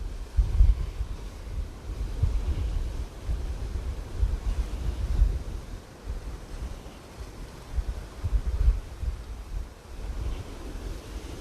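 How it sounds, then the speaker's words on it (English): Ocean waves surging against rocky cliffs at Palmetto Bay, a continuous deep rumble that swells and recedes in slow cycles, with wind buffeting the microphone. "Let you watch these waves for a couple of seconds."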